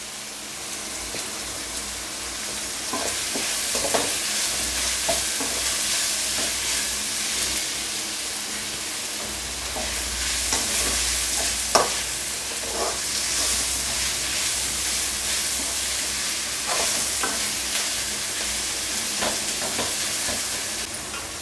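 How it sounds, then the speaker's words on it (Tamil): Tomatoes and onions sauté in a pan with curry leaves and coriander for vada curry, giving a steady sizzle throughout with repeated clinks and scrapes of stirring, up close and with no talk. "பாருங்கள், தக்காளி வெங்காயம் எல்லாம் வதங்கிடுச்சு"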